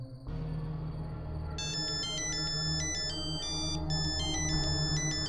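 A mobile phone rings with a bright, melodic electronic ringtone of quick repeating notes over a low background hum, with no talking.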